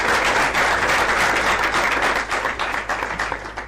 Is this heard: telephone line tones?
no